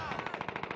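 Sustained machine gun fire in a Call of Duty match, a steady rapid stream of close, loud shots at an even rhythm with no pause.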